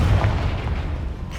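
A deep, booming blast from the Confringo spell in the Hogwarts Legacy video game, a single heavy low thud that fades out over about a second.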